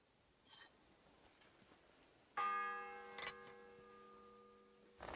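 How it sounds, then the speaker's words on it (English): A single bell struck once in a game where a bell is being tempered, ringing loud with a long sustained, slowly fading tone, preceded by a faint brief tap and followed by a second strike at the end. "The fourth bell."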